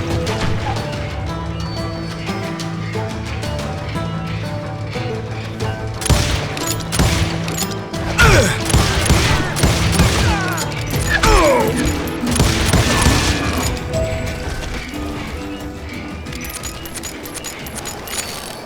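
Rapid gunfire from the Western shooter Call of Juarez Gunslinger, with dense volleys of shots, crashes and ricochets building from the middle onward over game music, loud and sustained.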